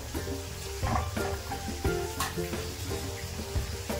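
Chopped onions for kanda pohe sizzle and fry in a pan, a steady crackling hiss with occasional stirring scrapes, close and moderately loud with no voices.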